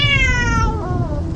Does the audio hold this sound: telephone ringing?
no